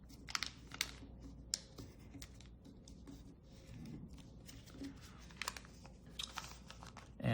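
Origami paper folded along an edge while making a baby penguin, giving a run of light crinkling taps and soft rustles close by, with no talking.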